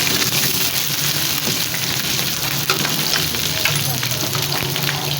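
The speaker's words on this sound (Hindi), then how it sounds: "लहसुन अदरक का पेस्ट, इसको भी भून लेते हैं ताकि इनका कच्चापन दूर हो जाए।" Garlic and ginger paste fries in a pot for chicken pulao, a dense, continuous close sizzle with faint stirring and no voices.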